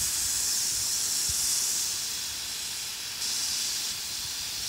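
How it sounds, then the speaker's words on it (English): A brass garden hose nozzle spraying a fine mist gives a loud, steady, airy hiss that holds constant, dipping briefly before resuming, with no talking. "it twists back down into a nice fine mist"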